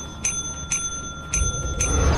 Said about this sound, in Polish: Nie lubię dzwoneczka.